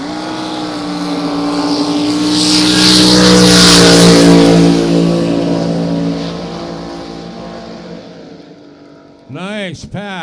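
A flat-bottom drag boat makes a full quarter-mile pass near Needles Marina, its engine roar swelling loud and close, holding at full power, then fading as it runs off into the distance.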